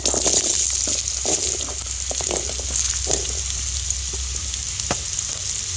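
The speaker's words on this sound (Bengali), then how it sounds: "ওই একই তেলেতে হাফ চামচ পাঁচ ফোড়ন দিয়ে দেব এবার আলুটা দিয়ে দেব" Potato pieces fry in hot oil seasoned with panch phoron, a loud, continuous crackling sizzle close by, with scattered pops and occasional stirring scrapes, no talking over it.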